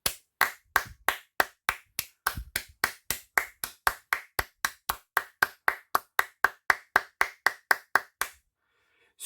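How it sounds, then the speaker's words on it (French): Rapid applause from a single pair of hands, about thirty crisp, evenly spaced claps close to the mic, ending abruptly in silence. "d'applaudissements."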